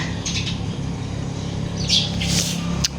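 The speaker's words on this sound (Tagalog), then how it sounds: "Di ba very peaceful kay sa mind kung imong mabati mga huni ng ibon" Birds chirp intermittently, with a few bright tweets and a brief flutter, over a steady low background hum.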